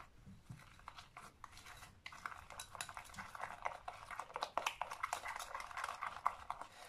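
Spoon scraping and clinking in a bowl as a yeast mixture with beldi soap and shampoo is stirred, a steady close run of light tapping and scraping strokes with no talk.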